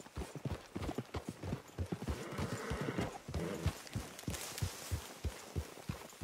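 Horse hooves clip-clopping in Red Dead Redemption 2, a brisk, even run of hoof strikes on hard ground, fairly quiet and close, with a brief whinny and no talk.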